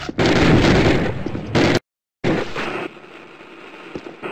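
Covering fire erupts in a Call of Duty battle, loud dense bursts of gunfire and blasts crowding together, cut by a brief total silence before the firing resumes and tails off into scattered shots.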